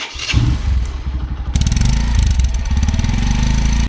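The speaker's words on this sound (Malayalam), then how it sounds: "ഈ വണ്ടിയുടെ ശബ്ദം ഞാൻ കേൾപ്പിച്ചു തരാം" A Bajaj CT 110X motorcycle engine runs close up, a steady mid-pitched putter that grows louder and rougher partway through as it is revved, with no talking.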